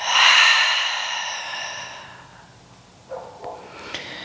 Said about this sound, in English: Big inhale through your nose. And an exhale to let that breath go out of your mouth.